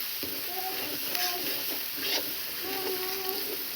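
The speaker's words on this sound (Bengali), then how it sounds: "লঙ্কার গুঁড়ো, পরিমাণ মতন লবণ। ভালো করে নেড়ে চেড়ে নিচ্ছি" Chili powder, turmeric and salt frying in a pan while being stirred, a steady broadband sizzle with scraping stir strokes and faint background voices.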